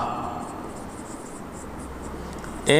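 A pen or marker scratching across a board during a physics lecture on diffraction gratings, soft steady strokes close by, ending in a brief louder squeak.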